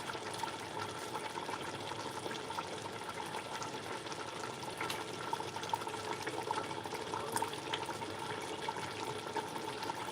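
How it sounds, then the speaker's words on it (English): Cutting board rinsed under a running kitchen tap, a steady soft splashing and trickling stream throughout, close but quiet, with no one speaking. "I'm going to wash the cutting board"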